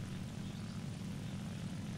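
The engine of a Japanese Focke-Wulf 190 A-5 premium propeller fighter in War Thunder drones steadily, a dense, continuous low roar at even loudness heard from the cockpit, with no talk.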